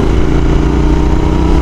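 A Royal Enfield Continental GT 650 motorcycle engine runs loud and close, a steady low throbbing drone with a firm pulsing rhythm and no voices over it.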